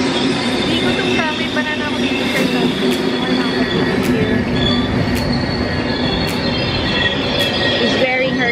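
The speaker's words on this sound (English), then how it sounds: "Here is the train." Train pulling into a station in Rome, with a steady loud rumble of wheels on rails, high metallic squealing as it brakes, and repeated clicking from the wheels, heard close on the platform.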